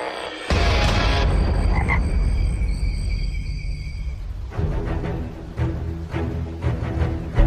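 A tomato frog in Madagascar croaking loudly in a dense, sustained chorus that fills the scene, with a faint buzzing texture over the calls and no voices.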